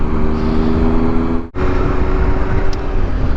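A car passes close by on a coastal road in the Scottish Highlands, a steady engine and tyre roar that briefly dips and swells as it goes past, with no talking.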